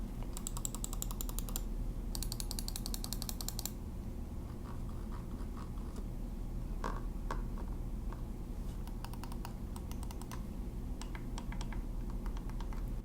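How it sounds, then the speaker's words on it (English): Keychron M4 and Logitech MX Anywhere 3 mouse buttons clicked in bursts, rapid runs of sharp, close clicks alternating with scattered single clicks, over a steady low background hum, with no talking. "The sound of the side buttons are actually a little bit quieter than the primary clicks, which are very traditional sounding."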